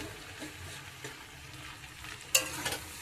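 Mixed vegetables and leafy greens sautéing in a pan for Bengali pachan, a soft, steady sizzle and frying crackle with occasional stirring scrapes, including a brighter clatter near the end.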